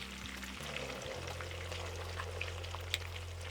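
Lemon and green chilli paste frying in hot oil, a steady close sizzle with a low hum beneath and a few faint crackles, no talking.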